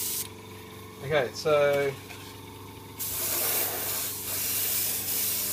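A spray paint can hisses colour onto a 1/24 scale model diorama: after a brief spoken word and a short rattle, a steady, close, broadband spray runs for the last few seconds.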